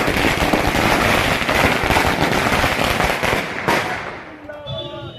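Firecrackers burst at an outdoor celebration of a Karnataka election win, a dense, loud, continuous crackle of rapid pops that eases off near the end as voices come through.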